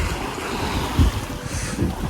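A sailboat crossing the Atlantic from Bermuda toward the Azores runs under spinnaker in very light wind and swell, with a steady wash of sea and wind noise and a few soft slaps of water.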